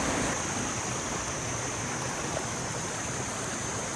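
Running water from a stream beside rice fields in Sapa rushes in a steady, continuous broadband wash, close and even throughout.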